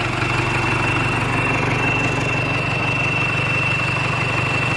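A turbo-modified Sonalika 750 tractor with intercooler idles steadily up close, a constant loud rumbling chug with a thin high whine riding over it, no voices.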